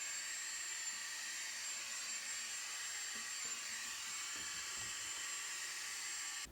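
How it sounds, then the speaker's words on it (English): A vacuum cleaner sucks debris out of a countertop opening left by a removed gas cooktop, a steady loud high whine running unbroken throughout with faint bumps and scrapes of the nozzle beneath it. "I need to vacuum all of that up and remove it"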